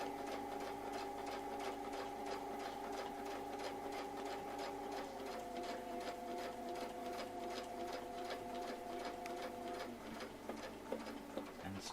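A sewing machine stitches curly-q stamens, its needle running in a fast, even mechanical patter with a steady motor whine that shifts pitch partway through, then slows near the end; heard close and alone.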